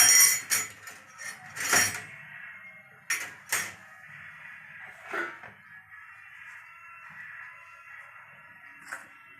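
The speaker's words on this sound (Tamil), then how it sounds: "இதை கிண்டி விட்டுக்கினே இருக்கலாம்." Metal scraping and clinking against a cooking pot in irregular stirring strokes, loud at first then quieter, over a low steady hum.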